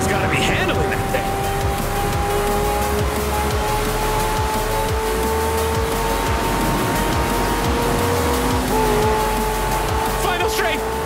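A McLaren Senna races in the video game Forza Horizon 4, its engine droning loud and steady with shifting pitch and gear changes, tires squealing at moments while a voice talks excitedly over the top.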